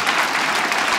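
Audience applause at a stand-up comedy show, a dense, loud burst of clapping heard alone for about a second.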